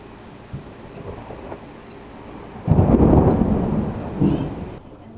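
Rumbling thunder from a storm grows from a low background rumble into a loud, sustained roll partway through, followed by a second, weaker surge before it fades.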